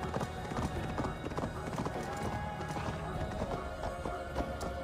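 Horse hooves gallop in a rapid, steady clip-clop during Assassin's Creed Valhalla gameplay, running continuously under game ambience and faint voices.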